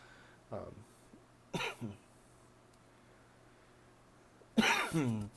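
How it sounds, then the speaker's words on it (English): A few close, harsh coughs with throat clearing, spaced by quiet pauses, the last burst longer and louder. "Sorry, I'm having a bit of a cough."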